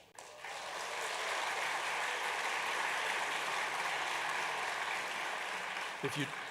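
An audience at a university engineering welcome week speech breaks into sustained, even applause that swells in quickly and carries on steadily, ending with a brief voice near the close.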